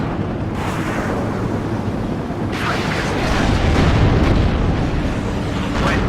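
Explosions from a strike in the video game WARNO, a cold-war NATO versus East battle scene, rumble as dense continuous low booms, with a sharper burst near the middle and sustained loud roar throughout.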